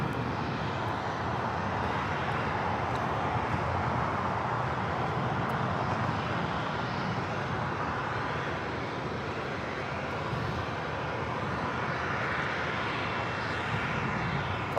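A jet airliner, a Qantas flight on final approach into Tom Bradley International at Los Angeles airport LAX, roars steadily and loud throughout, a continuous broad engine rumble with no talk.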